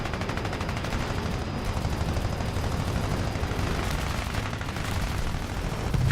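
Sustained rapid gunfire from aircraft guns in the air combat game War Thunder, a dense continuous rattle of bursts running throughout, loud and close with no pauses.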